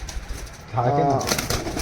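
A pigeon gives one short, near, clear coo in the middle, amid faint background noise and a little rustling.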